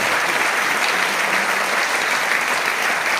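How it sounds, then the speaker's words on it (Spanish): Dense, sustained applause from an audience, loud and even throughout with no pauses. "Un aplauso para Pablo"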